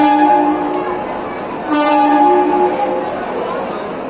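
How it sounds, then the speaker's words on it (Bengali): A train horn sounds loudly in two sustained, nasal-toned blasts, the second starting just before the two-second mark, over steady rail rumble as the train passes close by. "ট্রেনের আওয়াজটা মনে হলো এমন একটা সর্দি হয়ে গেলে নাক বন্ধ হয়ে যায় এরমভাবে হর্নটা দিলে"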